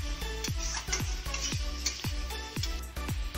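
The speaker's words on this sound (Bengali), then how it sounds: "তাও আরেকটু আমি নাড়িয়ে নিচ্ছি।" Potato, eggplant, beans and green chili are stirred in a pan. A spoon scrapes in steady strokes about every half second over a low, constant sizzle, close and fairly loud.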